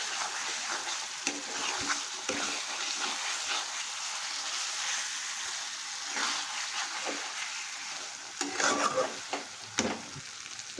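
Half a packet of biryani masala is stir-fried in a pan for banana leaf chicken biryani, a constant sizzle broken by repeated scraping stirs of varying strength, close by.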